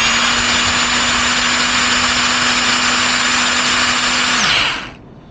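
A repaired electric rotary hammer runs loud and close with a smooth, even motor whine and steady tone, then winds down and stops near the end.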